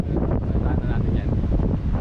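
Steady, broadband wind rumble buffets the microphone throughout in Ortigas, Manila, loud and continuous, with faint talk mixed underneath.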